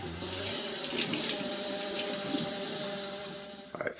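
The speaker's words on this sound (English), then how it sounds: "Rinsing out the bottle to get any dust that might have accumulated in them out." Tap water running to rinse out bottles before bottling homebrew, a steady close rush of water into and around the glass that holds for several seconds, then ends with a few brief knocks and clatters.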